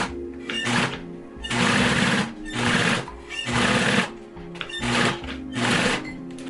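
A sewing machine stitches the bottom of a leather clutch bag in loud close bursts of rapid mechanical chatter, about six runs separated by short pauses.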